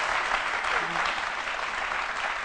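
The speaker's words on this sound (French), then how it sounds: "on applaudit très fort Dr Philo" Studio audience applause for a guest on a midday TV show, a continuous, fairly loud wash of many hands clapping for the whole stretch.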